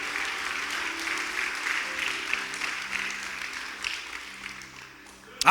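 A church congregation at a worship service applauds in a sustained, full wash of clapping that swells and carries on for several seconds, tapering slightly near the end with faint murmurs underneath.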